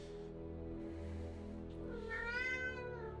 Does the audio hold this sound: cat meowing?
yes